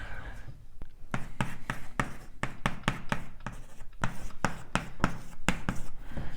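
Chalk or marker taps and scratches out quick strokes on a board during a cosmology lecture, in irregular bursts with short pauses, fairly close and quiet.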